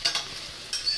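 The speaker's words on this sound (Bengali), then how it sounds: "পেঁয়াজটা এভাবে ভাজা হয়ে গেল প্রায়" Onions with chopped green chili frying lightly in a pan, a faint brief sizzle broken by a couple of quick stirring scrapes.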